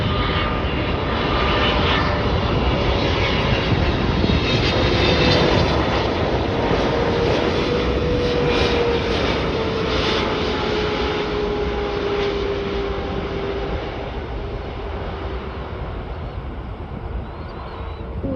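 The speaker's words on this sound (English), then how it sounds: "we got a Boeing 777-3B5ER Korean Air arriving in from Seoul Incheon International Airport" A Korean Air Boeing 777-3B5ER landing at Chicago O'Hare, a loud, steady jet engine roar held throughout with a slowly falling whine, nearby and alone.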